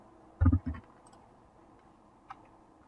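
Computer mouse clicks while drawing in SOLIDWORKS, a quick close pair of clicks early, then a faint single click later, against a quiet room.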